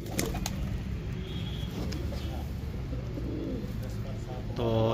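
Soft, low pigeon coos repeat against a constant background hum, with a few faint flutters and chirps nearby.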